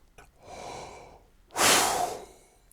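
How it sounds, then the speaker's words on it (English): Two audible breaths, a softer airy one and then a louder, deeper intake drawn naturally in preparation for playing the trumpet, heard close with no speech over them. "Just practice breathing in naturally,"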